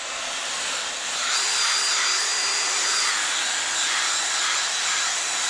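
Heavy sanding pass on a Nissan R33 GT-R headlight lens, a steady, loud abrasive hiss that holds evenly for several seconds with no talk.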